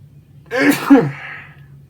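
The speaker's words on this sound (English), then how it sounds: "I'm about to sneeze" A single sharp sneeze bursts out near the microphone, a quick intake then an explosive release, with quiet room hum before and after.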